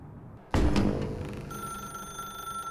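In The Stanley Parable, a telephone bursts into ringing after near silence, a sharp loud onset followed by a sustained electronic ring that lingers and fades slightly.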